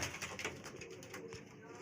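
Red-eyed pigeons coo softly in a loft, several low throaty calls overlapping close by at fairly low volume.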